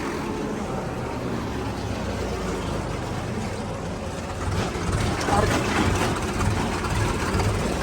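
A tractor engine idles close by with a loud, steady low rumble that swells slightly partway through.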